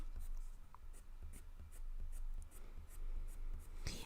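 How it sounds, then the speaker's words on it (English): A Polychromos colored pencil scratches across paper, drawing hair strands in repeated short, light strokes with a brisk rhythmic pattern, close up and quiet. "as we're coming into the middle, we're releasing our pressure of our pencil."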